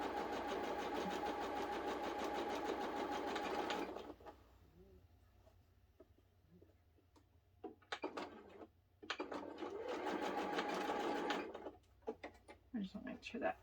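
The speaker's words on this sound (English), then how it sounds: "all we're going to do is sew a straight line all the way down" A sewing machine stitches a straight line of fabric in two runs of rapid, close mechanical whirring, separated by a pause with quiet handling clicks and knocks.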